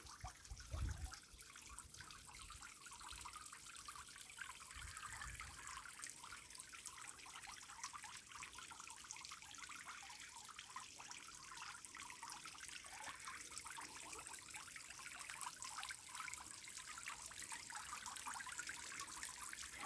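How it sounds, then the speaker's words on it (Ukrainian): Water trickling and babbling steadily in a decorative garden pond, a soft continuous gurgle heard alone at low level throughout. "Мені здається, кожному подобається, коли так дзюрчить водичка."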